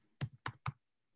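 Three quick, crisp mouse clicks on a computer during an online math lesson, close and evenly spaced, with silence between and no voices.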